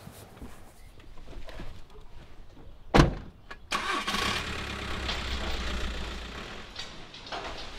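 A car drives toward an automotive supplier's plant, with a door thump and a sharp knock followed by the engine starting and running at a steady mid-pitched idle, fairly close.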